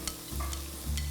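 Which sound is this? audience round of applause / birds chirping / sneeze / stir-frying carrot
stir-frying carrot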